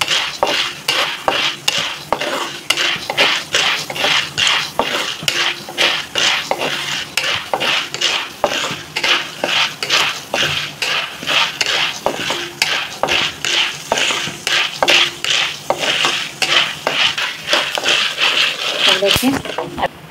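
Popcorn stirred in a pan, a steady rhythmic scraping and clinking of a utensil against metal repeating roughly every half second, close and continuous for the whole stretch, with faint sizzling underneath.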